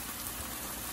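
Malai kofta shallow frying in a modest amount of oil, giving a steady, close bubbling crackle that stays even and continuous for the whole second.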